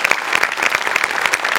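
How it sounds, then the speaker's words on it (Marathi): A studio audience at a Marathi comedy show claps loudly together, a dense close burst of rapid hand claps that carries on steadily throughout with no voices on top. "बाबाजींसाठी एकदा जोरात टाळ्या."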